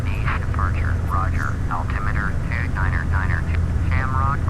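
A Beechcraft Baron twin piston engine at full throttle in Flight Simulator X drones loudly and steadily from the cockpit while someone talks over it throughout.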